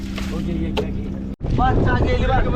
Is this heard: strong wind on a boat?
yes